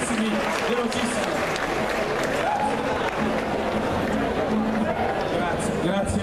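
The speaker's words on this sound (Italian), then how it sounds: "Prego, un applauso intanto" Audience applause at a Salento community event in Padova, steady dense clapping from a crowd that holds an even level throughout, with faint voices mixed in.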